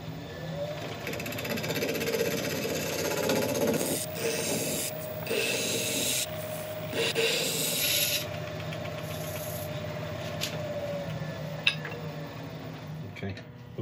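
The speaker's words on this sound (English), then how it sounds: "Actually, let's try a scraper on there." A woodturning scraper rubs and rasps against a spinning greenheart and purpleheart mallet on a lathe, giving a steady close whirring hum with scraping texture for about fourteen seconds, briefly interrupted mid-clip.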